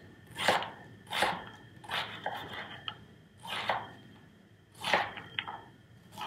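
A knife slices half an onion into strips on a cutting board, giving five or six distinct close chopping strokes at an uneven, unhurried pace, each a short crisp cut with small clicks between.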